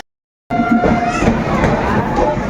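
A crowd fills Bardhaman railway station with a loud, close babble of many overlapping voices that starts abruptly after a brief silence, with a train-like rumble beneath the chatter.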